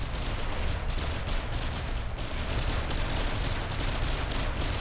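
Battleship cannon fire in a naval combat game, a dense, continuous rumble of rapid booming shots with no pauses, loud and steady throughout.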